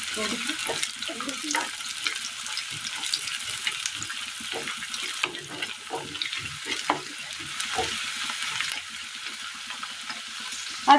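Chopped onions and shallots fry in oil in a pan for a Kerala curry, a soft steady sizzle with occasional stirring scrapes and clinks close by, quiet and continuous.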